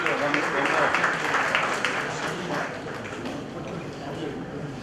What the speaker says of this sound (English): we can just give it a round of applause